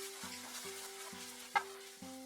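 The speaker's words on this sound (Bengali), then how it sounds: "পেঁয়াজ রসুনটা দেওয়ার পরে আবার আমি এটাকে মিনিট 2 মিডিয়াম আঁচে ফ্রাই করে নেব" Onion and garlic paste fries over medium heat for stuffed potol dorma, giving a soft steady sizzle with a few light stirring scrapes, close and quiet, with a steady background hum.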